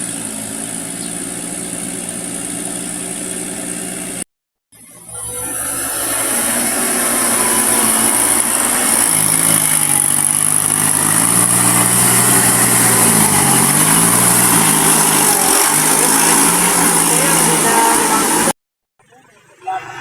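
A small engine runs steadily and loudly up close, its drone shifting in pitch midway, with brief cutouts near the start and end.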